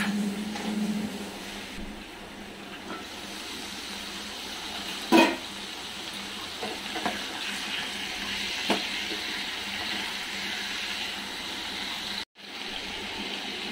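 Potatoes fry in dalda in a pan while mutton biryani is being made, giving a steady, even hiss with a couple of soft knocks and no talking.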